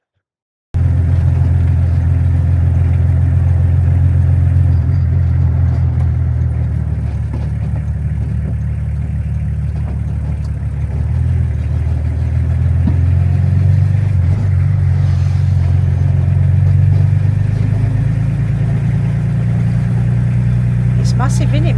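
A protest convoy of about 50 vans driving along the Morecambe seafront promenade, heard as a steady low rumble of engines and tyres from inside a moving vehicle, continuous and fairly loud throughout.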